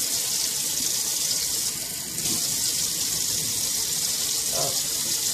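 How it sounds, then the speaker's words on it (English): Tap water runs steadily into a Playtex baby bottle, a bright continuous splashing hiss with a brief dip midway, close and clear, while faint voice traces sit low underneath. "I'm gonna take a fresh bottle and I fill it up to"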